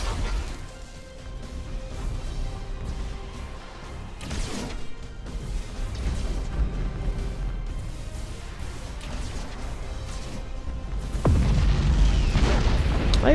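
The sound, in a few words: torpedo hits exploding in Battlefleet Gothic: Armada II video game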